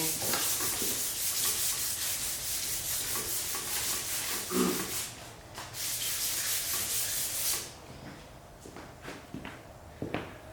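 Sanding over peeling paint on a farmhouse table frame during a patina restoration, a steady rasping rub that runs continuously for about seven seconds, then gives way to quieter scattered scuffs and taps.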